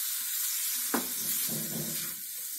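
Spice paste sizzles in a pan with a couple of teaspoons of water for jeera aloo, a constant close frying hiss, with a sharp stirring scrape near the start and gentle bubbling after.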